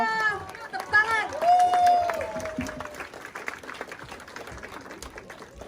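An audience claps at a special stemcell product presentation, a burst of applause and crowd noise that fades gradually after a loud announcement voice over a microphone.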